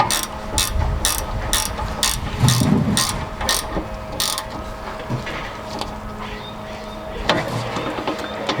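A ratchet tightens the 14 mm sway bar link nut on a 2000-2006 Lexus LS430, giving a close run of rapid clicking strokes with a few pauses and some background clatter.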